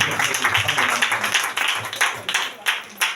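Church congregation clapping to acclaim the Lord during a fasting and prayer service, uneven bursts of hand claps from many people, fairly close, with voices speaking and calling out over them.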